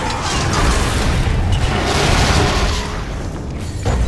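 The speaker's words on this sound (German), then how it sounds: "Möglicher Laboreinbruch durch große Explosion bestätigt." A big laboratory explosion in the Lego Marvel Super Heroes video game, a loud, dense rumbling boom that fills the whole stretch and slowly tails off.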